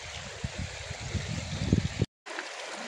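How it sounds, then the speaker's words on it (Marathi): River water flowing at a village riverside: a steady, soft rushing hiss with a few low bumps and a brief dropout near the end, with no voices. "बघा किती छान पाणी वाहत आहे।"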